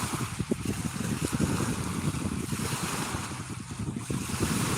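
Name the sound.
water waves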